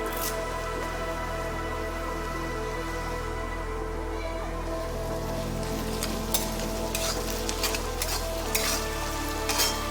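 Onions and curry leaves frying in a pan on a high flame, a constant close sizzle with bursts of spatula stirring and scraping that grow busier toward the end.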